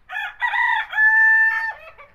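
Rooster on a rooftop garden crowing loudly and close, one long drawn-out call with a few clucks before it, over a quiet background.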